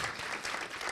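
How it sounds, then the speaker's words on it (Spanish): At a theatre round-table event, the audience claps in thanks with a continuous, dense wash of applause that stays fairly even, with faint crowd noise underneath. "Despidámonos con otro aplauso,"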